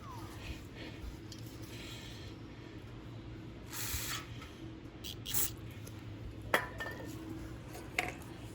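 Two short hissing bursts of aerosol cleaner sprayed into a Toro engine's carburetor, close by, separated by a pause, with scattered metallic clinks and a low steady hum around them.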